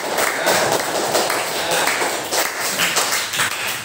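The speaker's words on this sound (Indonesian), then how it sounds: "Tepuk tangan buat" Students and teachers in a classroom clap their hands together, a brisk, fairly loud burst of mixed claps that keeps going without a break, with barely any talking.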